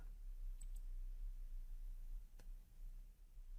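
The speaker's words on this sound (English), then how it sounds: "click on Create." A computer mouse clicks a few times, sharp and faint, as a Microsoft Azure web interface is navigated in a quiet room.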